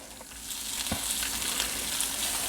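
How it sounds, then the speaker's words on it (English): Hamburger bun toasting in butter on a griddle, a steady close sizzle with faint crackles and a soft tap, no voices. "I'm just gonna let that bun absorb the butter."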